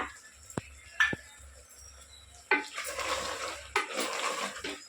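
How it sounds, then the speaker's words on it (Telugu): Water is poured into a curry in a pressure cooker, a boti and raw mango curry: two sharp metallic clicks come first, then a steady, close rush of pouring water that briefly pauses and resumes. "వాటర్ పోసేసుకొని కుక్కర్ మూత పెట్టేసుకుందాం ఇప్పుడు"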